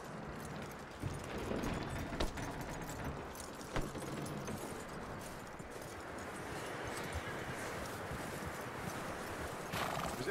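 Horse hooves clip-clop steadily alongside repeated neighs and whinnies in the Red Dead Redemption 2 video game, with continuous ambient outdoor background and a few louder hoof impacts.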